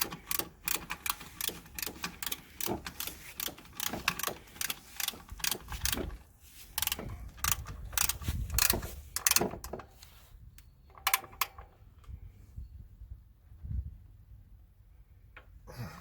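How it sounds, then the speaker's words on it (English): Torque wrench clicking and ratcheting while tightening engine mount bolts on a Toyota Previa, a run of sharp mechanical clicks and ratchet pulls up close, busy at first and then thinning out into sparse clicks, with no talk. "You're going to torque these to 45 foot-pounds each side, the front and the back."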